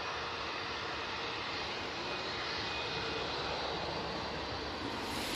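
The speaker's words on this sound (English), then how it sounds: "behind you can hear the A330 now coming on via Tango" An Airbus A330 jet taxiing at Manchester Airport gives off a steady, moderately distant engine roar and whine that holds evenly throughout with no talk.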